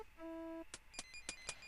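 Electronic phone dialing tones in the adventure game Police Quest 3: a steady two-tone beep, then a quick series of five or six short bleeps in a regular rhythm, clean and fairly quiet with no talk.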